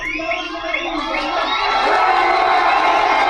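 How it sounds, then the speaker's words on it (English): A large protest crowd cheers and shouts, high excited voices and whoops swelling into a loud sustained roar that builds toward the end. "Look at them cheer."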